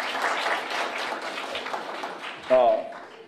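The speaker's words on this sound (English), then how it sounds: "First I want you guys to give yourself a round of applause just for being here" Audience applause rising briefly under a speaking voice, a crowd clapping for a few seconds before a louder vocal outburst cuts through.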